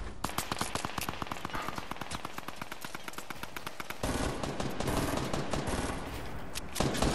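Sustained rapid automatic gunfire in the Fortnite video game, a steady stream of closely spaced shots that grows denser and louder partway through, with brief extra bursts near the end.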